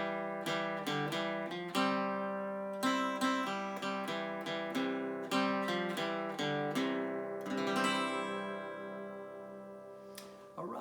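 Guitar picking out a melody while also striking the string beneath the melody string, giving steady plucked notes with ringing doubled tones at a moderate pace, played close and alone, with a brief strummed flourish near the end.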